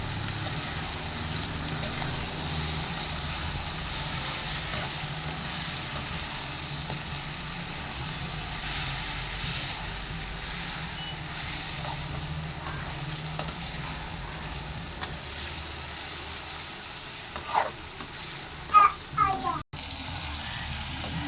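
Chicken frying with onions in a pan, a steady close sizzle running throughout as the pieces are stirred, with scraping clatters of the spoon toward the end.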